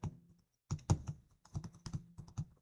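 Quick clatter of keystrokes on a computer keyboard while entering data into an Excel worksheet, close and clear, short irregular bursts after a brief quiet start, with no talking.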